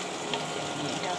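Jackfruit fries in oil, giving a brief, soft, steady sizzle.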